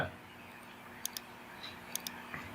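A computer mouse clicks while a beam is being modeled in Tekla Steel software, giving a few quiet, crisp clicks in quick pairs over a faint background hum, with no voice.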